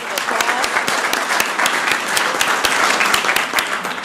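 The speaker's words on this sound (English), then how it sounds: "let's give them a round of applause." A room at a Columbus, Georgia city council meeting breaks into steady applause, many hands clapping together for about four seconds at moderate volume.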